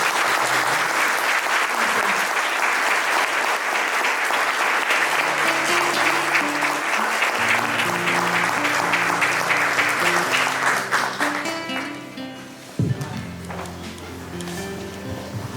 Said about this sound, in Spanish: creo que podemos finalizar con un aplauso